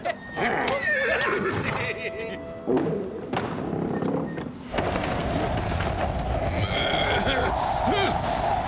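Several horses whinny and neigh loudly amid galloping hoofbeats and thuds in a cartoon scene, with shouted voices and busy action sounds mixed in.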